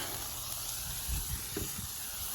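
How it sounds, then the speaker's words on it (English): Butter sizzles on a hot griddle while smash burger buns are started, a steady, even hiss carrying on alone with a few low bumps and soft clatters underneath. "we're gonna put some butter down and start on the buns"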